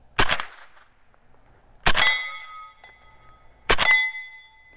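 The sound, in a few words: suppressed AK rifle shot with Banish Backcountry suppressor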